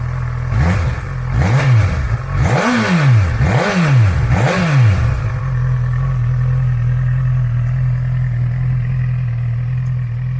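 Honda CB1000R naked motorcycle with a reworked engine rated at 145 horsepower, blipped through four or five sharp rising-and-falling revs, then settling into a loud steady idle, close up.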